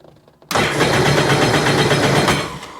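A 2009 Sea-Doo Wake 215 watercraft engine bursts into a loud, steady, close roar after a brief quiet start, holding high revs for over two seconds before easing slightly near the end.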